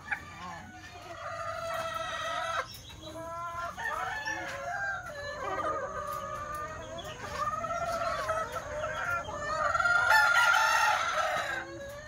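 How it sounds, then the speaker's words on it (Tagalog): A pure Cecil Davis Kelso rooster crows repeatedly and loudly at close range, with long drawn-out calls and clucking, and other fowl are audible around it on the farm. "Ito naman po ay ang pure Cecil Davis Kelso."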